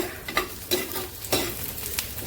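Green chillies sizzle in a pan of frying onions as they are stirred, a soft continuous hiss broken by several sharp scraping strokes of a spoon, close and fairly quiet with no talk.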